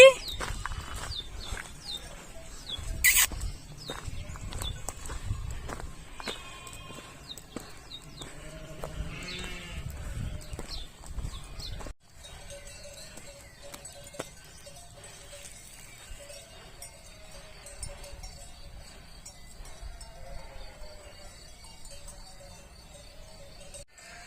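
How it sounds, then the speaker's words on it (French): Sheep met along a farm track on a pilgrimage route toward Santiago de Compostela, bleating repeatedly and close by with footsteps; people talk in between, and after midway the calls fade to a quieter background. "Qui j'ai trouvé en chemin? Des moutons."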